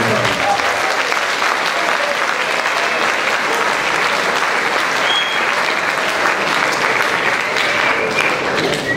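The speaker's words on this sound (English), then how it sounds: "So join me in a round of applause for all of the awards." Dense, loud applause from an audience at a school awards ceremony, a continuous wash of many hands clapping that holds steady throughout without any pause.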